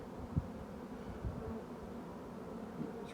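Honeybees festooning inside a chimney give off a faint, low, continuous hum during a hive removal, with a few soft knocks and no voices.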